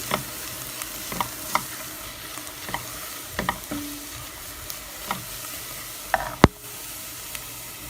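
Flour and vermicelli roast in a pan with garlic for chicken soup, a soft continuous sizzle broken by intermittent scraping strokes and one sharp clank of the utensil against the pot.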